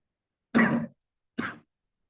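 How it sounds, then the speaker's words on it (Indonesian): A person coughs twice at close range during an Indonesian seminar on digital fundraising, a longer throaty cough followed after a short pause by a shorter one, with silence around them. "Mohon maaf ini saya agak batuk ya."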